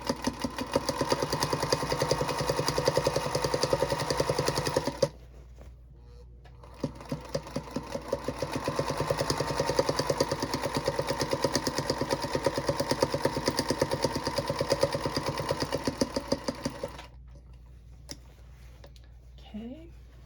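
A sewing machine stitches around a fabric book cover, running in long steady buzzing bursts with short pauses between them, up close and loud, while a person talks over the stitching.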